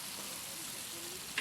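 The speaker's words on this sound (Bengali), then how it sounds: "কড়াইতে চাপিয়ে দেওয়া হয়েছে। পেঁয়াজটা ভাজা হচ্ছে" Onions fry in a wok over a village cooking fire, giving a steady, soft sizzle throughout with a brief louder crackle near the end.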